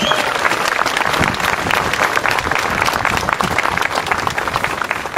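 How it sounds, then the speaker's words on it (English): A close, loud round of crowd applause fills a Tea Party rally in Boston, with dense clapping sustained at a constant level. "Give yourself a round of applause for that."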